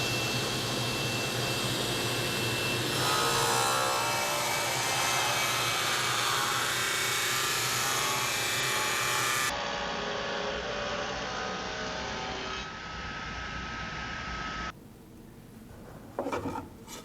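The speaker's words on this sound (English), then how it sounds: "raise the blade incrementally to get a little bit deeper and finish forming our cove shape" Table saw running as wood is pushed across the blade to form a cove shape in passes, a loud, steady rushing whine that drops partway through and winds down near the end.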